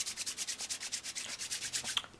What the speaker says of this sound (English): Perform the 6-stage hand washing technique for about 10 to 20 seconds of rubbing.